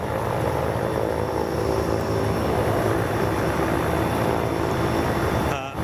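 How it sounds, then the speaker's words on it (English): A Falcon jet at Boeing Field gives off a steady, loud engine roar that holds constant for the whole stretch, with no voices over it. "they turned that Falcon jet around quick"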